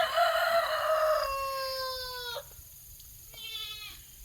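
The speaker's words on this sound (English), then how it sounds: "A rooster got to add his 2 cents worth in." A rooster crows outdoors on a rainy Sunday, one long falling crow followed after a pause by a shorter second call, moderately near over quiet background.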